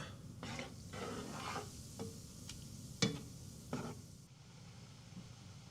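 Sauerkraut and beer simmer in a pot on a barbecue, waiting for bratwursts. A steady bubbling sizzle runs throughout with a few sharper clicks and scrapes, close by and without speech.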